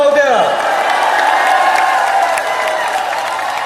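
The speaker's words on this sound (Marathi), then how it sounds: "उर्मिलाजींसाठी जोरदार टाळ्या होऊन जाऊ द्या" A crowd at an outdoor Dahi Handi festival claps and cheers, a loud, dense wash of applause that holds steady for a few seconds.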